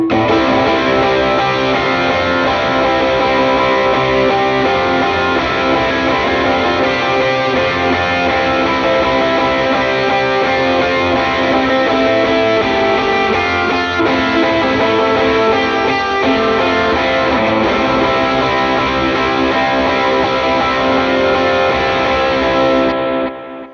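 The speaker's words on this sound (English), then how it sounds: "Tonally, what we've got on is the amp is gained up" An electric guitar plays a rhythm part through a gained-up amp with eighth-note delay and plate reverb, the dense distorted chords ringing continuously and loudly for the whole stretch with no talking.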